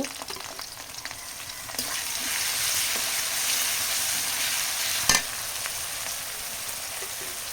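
Garlic, onion and ground spice paste with cardamom, cinnamon and cloves frying in oil for a village-style chicken dish, a steady close sizzle with a few stirring scrapes and one sharp knock near the end.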